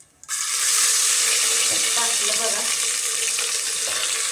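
Ground spice paste hits hot oil and fries with a sudden loud hiss that starts abruptly and holds as a dense, steady sizzle close by, with faint clinks from stirring.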